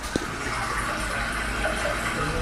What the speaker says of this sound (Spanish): Le tienen hasta un sonidito así como de agua